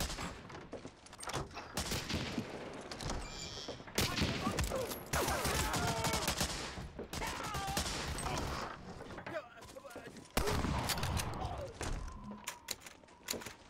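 Gunfire from the World War II shooter Medal of Honor: Allied Assault Spearhead, with dense bursts of rifle and machine-gun fire crackling nearly nonstop and sharp louder volleys around the middle and near the end, close and loud.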